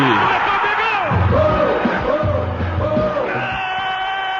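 A Brazilian football crowd at a match broadcast roars and yells in loud, sustained waves, with chanting voices rising and falling across several seconds.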